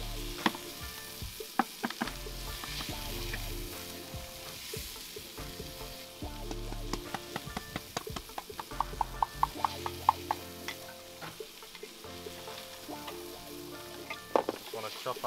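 Garlic frying in a pan over a camp stove for chilli con carne, a quiet steady sizzle broken by frequent clicks and scrapes of stirring.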